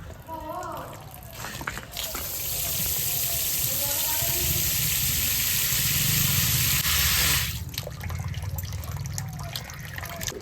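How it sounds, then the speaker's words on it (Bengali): Broken rice (khud) is rubbed and washed by hand in a pot of water. Sloshing and splashing carry on steadily and loudly through the middle, with someone talking at the start and end. "এই চালটা শুধু কচলাইয়ে ভালো করে ধুয়ে নিলেই হবে"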